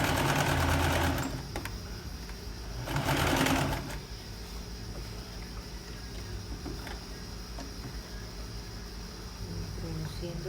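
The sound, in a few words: sewing machine stitching a shirt seam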